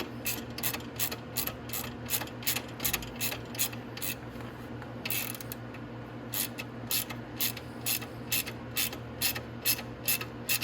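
Ratchet on stiff, paint-clogged bolts of a Venom X22R Max 250cc motorcycle oil cooler clicks in a steady, rhythmic series of sharp pawl ticks, close and clear over a low background hum, without talking.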